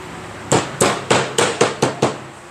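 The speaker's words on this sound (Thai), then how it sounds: "ก็ใส่เข้าไปอย่างนี้ก็ตอก" Hammer blows drive a bushing into an old Mitsubishi electric fan, seven sharp evenly spaced metallic knocks about a third of a second apart, close and clear with no talking.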